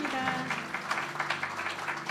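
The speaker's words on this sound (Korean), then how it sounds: "성도분들께서 많은 박수로 축하해 주시면 감사하겠습니다." A church congregation at a course graduation ceremony applauds in a steady, moderately loud patter of clapping, with a held tone sounding faintly beneath it.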